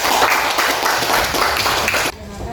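Schoolchildren in an Indonesian classroom clapping: loud, dense, close applause mixed with voices, keeping a steady roar before it cuts off abruptly into a quieter room near the end.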